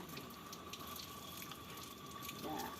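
Water poured for the seventh rinse of a ritual washing to cleanse impurity, a steady faint running stream like a tap filling, continuous throughout with soft background noise.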